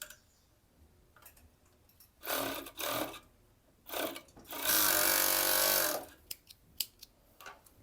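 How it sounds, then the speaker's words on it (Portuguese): Overlock sewing machine stitching the side seam of a bikini bottom, short motor bursts followed by a longer steady whirring run of about a second and a half, with fabric handling and small clicks between. "é só fazer a costura aqui na lateral, na overlock"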